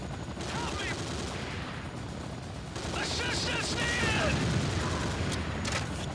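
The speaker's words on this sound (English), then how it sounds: "I waste my ammo on such trivial matters." Gunfire in the shooter C&C Renegade, rapid mechanical shots and clattering over a constant noisy background of battle sounds, fairly quiet overall, with a voice speaking partway through.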